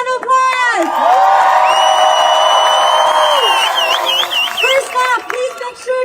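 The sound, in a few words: crowd applause and cheering at rally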